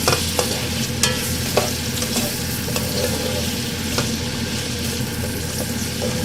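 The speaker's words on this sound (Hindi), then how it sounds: "प्याज को यहाँ हमें अच्छे से फ्राई करना है कि इसका कच्चापन बिल्कुल ख़त्म हो जाए और ये ब्राउन सी हो जाए।" Onions frying in hot oil for baingan bharta, a loud, close, continuous sizzle with a spoon scraping and stirring through the pan at irregular intervals, no voices.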